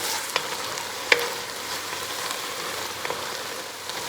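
Ground meat browning in a pot over fairly high heat for taco soup, a steady close sizzle and crackle with a few sharp pops and spits breaking through.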